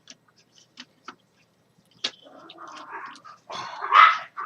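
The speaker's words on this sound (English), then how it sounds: "Dog never shuts up." A dog barks in the background of a quiet indoor room during a Transformers toy review, starting with a few sparse yips and building into louder, closer growling barks.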